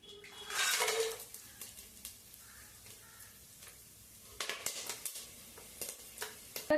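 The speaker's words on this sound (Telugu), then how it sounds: "బిర్యానీ మసాలా గింజలన్నీ ఇప్పుడు వేసేద్దాం." Whole biryani spices dropped into hot oil in a pot for vegetable rice: a brief burst of sizzle followed by clinks of a spoon against the vessel and scattered soft crackles.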